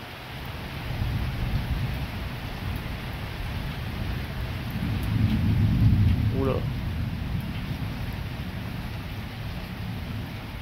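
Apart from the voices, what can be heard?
heavy thunderstorm with torrential rain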